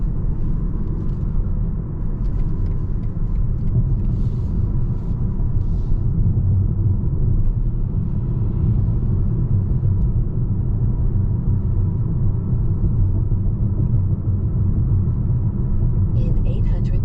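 Cabin of a 2023 BMW X1 28i cruising after a smooth takeoff, with a steady low road rumble and muted engine drone throughout and faint brief clicks above it.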